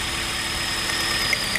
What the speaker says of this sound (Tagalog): nanginig ang makina, sabihin gumagana